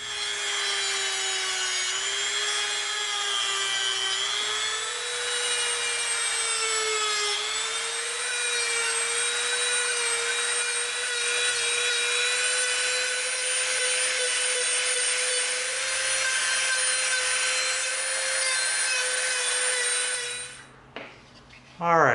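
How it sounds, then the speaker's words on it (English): Rotary tool fitted with a super rough bit grinding away EVA foam, a continuous high-pitched whine with a gritty rasp that holds steady for about twenty seconds, then stops abruptly. "we're going to come in with our super rough bit to tear out a big portion of it first"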